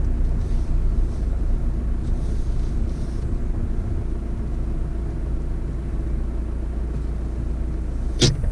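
A 4WD drives around a bush race course in the outback at Yalgoo, a steady low engine and road rumble carrying throughout, with a sharp brief knock near the end.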